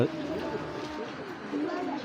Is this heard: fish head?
no